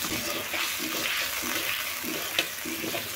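Tomato paste is stirred into a frying vegetable korma in a pan, giving a steady wet sizzle with repeated scraping strokes and one brief clink of the spoon.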